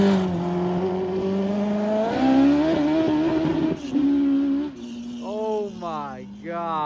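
Someone's new mini truck revving hard while spinning a donut, a loud, rising and falling engine note with tire noise, near and continuous, with people talking over it.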